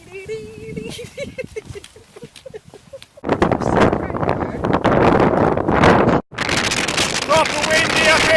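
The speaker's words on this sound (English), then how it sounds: "Proper windy up here!" Strong wind blasting across a mountain summit in the Black Mountains, buffeting the microphone in loud roaring gusts after a calmer opening where a voice speaks, with one brief drop before the roar resumes.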